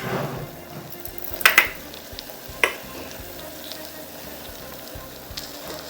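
Tamarind water is poured into cooking vegetables for a mixed vegetable sambar, setting off a steady sizzle and bubbling broken by a few sharp clatters, close and moderately loud.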